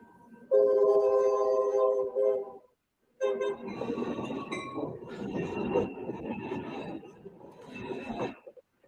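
A locomotive rolls directly over a camera set low between the rails, a loud rumbling, squealing mass of wheels and undercarriage noise that cuts briefly to silence around three seconds before surging back.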